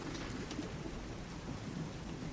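Steady, dense rainfall during a storm, with a low rumbling bed of thunder underneath and a few faint chirps, continuous and even throughout.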